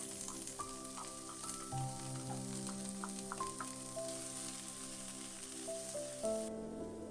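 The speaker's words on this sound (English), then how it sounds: "Then, add the sweet preserved radish and fry it until it gets fragrant." Sweet preserved radish frying in a pan gives a quiet, faint sizzle beneath a prominent melodic music track.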